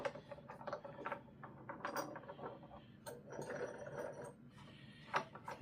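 Clamps being loosened on a router jig in a workshop, a run of metallic ratcheting clicks and clanks in irregular bursts, fairly quiet and close.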